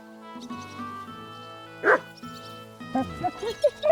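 A dog named Mutt in the video game Kingdom Come: Deliverance II yips, whimpers and barks in short bursts over a tonal, droning game backdrop.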